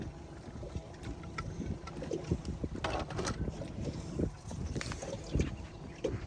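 Motorboat ride on Lac Seul: a steady rumble of engine and hull slapping water under heavy wind buffeting, with no voices.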